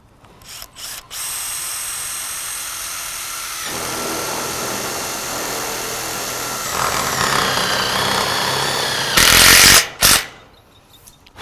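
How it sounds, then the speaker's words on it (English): A power screwdriver driving screws through metal roof sheets into a shed frame, a loud continuous whirring run lasting several seconds, rising in strain toward the end and then stopping abruptly, close up with no talking. "The sheets are secured to the frame by screwing into the top of the pan."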